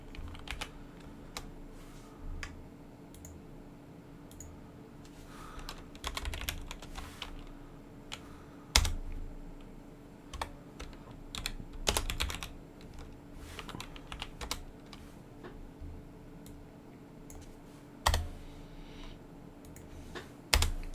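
Someone types on a computer keyboard while writing Java code, with soft, irregular key clicks and occasional louder taps, quiet and close with no talking.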